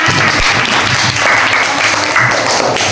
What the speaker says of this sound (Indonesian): Tepuk tangan untuk kelompok Semeru